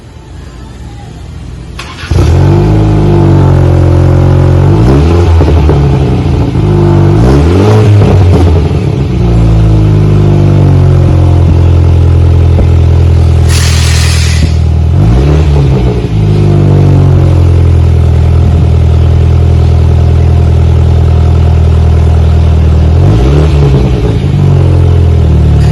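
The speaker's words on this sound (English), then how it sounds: "We have removed the rear muffler, but left the active exhaust valve in there. Installed the Flowmaster FX muffler." A 2020 BMW 230i with stock front exhaust, rear muffler replaced by a Flowmaster FX muffler and the active exhaust valve kept, starts with a bark, then rises and falls through several loud revs before settling into a steady high idle.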